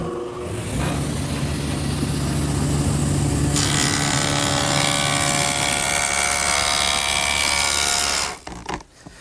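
A table saw fitted with a stacked dado head cutter runs loudly and steadily while cutting a rabbet in a wooden side panel for an outdoor lidded bench. A rising whine fills the cut, then the blade winds down near the end.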